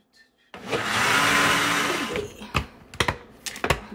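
A blender whirs loudly through a protein smoothie of apple juice and spinach for about a second and a half, then winds down and stops, followed by several sharp clicks and knocks.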